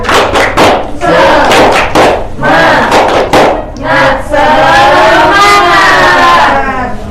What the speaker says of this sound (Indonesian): mari kita melakukan tepuk semangat terlebih dahulu supaya kita tambah semangat